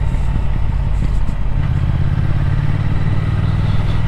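Triumph Speed Twin 1200 motorcycle engine while riding on winding roads, a steady loud low rumble with constant wind noise, heard from close on the bike and running continuously without a break.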